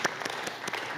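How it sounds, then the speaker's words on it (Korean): A church congregation at a Sunday worship service claps together, quiet and a little distant, with a few separate bursts of hands standing out in an uneven rhythm through a short moment. "우리 주님께 영광의 박수 한번 드리겠습니다"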